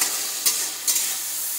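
Pre-fried eggplant pieces go into hot oil with mustard paste in a pan, giving a steady bright sizzle with two short louder bursts as they land, close and without speech.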